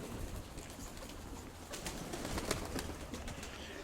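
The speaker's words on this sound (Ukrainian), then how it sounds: "Летить голубок якийсь, летить." A pigeon close by outdoors in a rural yard, soft cooing and bird calls rising over a steady background hiss, moderately faint and continuous with no talk.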